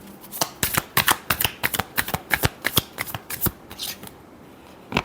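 Tarot cards being shuffled in a quick series of crisp riffling snaps, close and clear with no talking, before a short pause near the end.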